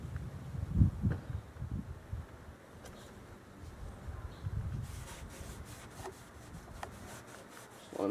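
Rubbing alcohol wiped by hand along the rusty rocker panel of a 2004 Mazda 6, a close, soft scrubbing and rubbing with uneven strokes, heavier near the start and fading into lighter friction.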